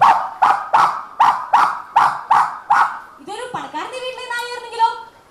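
A mimicry artist at a competition imitates a dog with his voice, giving seven evenly spaced, loud barks followed by a drawn-out whining yelp.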